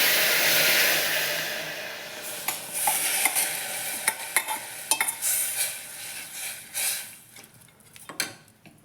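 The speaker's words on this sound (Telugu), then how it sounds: "ఇప్పుడు మనం రెడీ చేసి పెట్టుకున్న పప్పు టమాటా దీంట్లో వేసుకునేస్తాము" Cooked toor dal and raw tomato tipped into a pan of frying seasoning, first a loud hissing sizzle, then a run of scraping and clinking stir strokes as the sizzle dies down.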